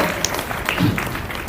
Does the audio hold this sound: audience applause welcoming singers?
yes